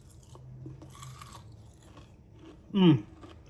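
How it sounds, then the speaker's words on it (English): A single crisp crunch of a bite into crispy fried onion strings, close and sharp against a quiet background with faint rustling. "Here's our nice bowl of crispy fried onion strings. And let's take a bite."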